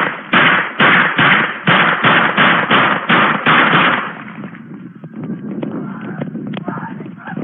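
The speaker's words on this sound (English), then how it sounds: "Shots fired." Rapid burst of about ten loud gunshots during a police encounter in Denver, sharp evenly spaced cracks in quick succession, followed by quieter scuffling and muffled commotion.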